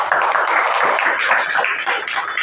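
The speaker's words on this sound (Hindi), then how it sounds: "उनके लिए भी एक जोरदार ताली हो जाए" Steady audience applause at a public event in honour of a couple, a dense wash of many hands clapping evenly throughout, fairly loud and close with no talk over it.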